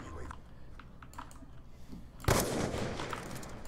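A gunshot in Call of Duty: Black Ops 2 played on PC breaks abruptly out of quiet game sounds, followed by a loud, sustained noisy wash that trails off. A voice talks faintly beneath.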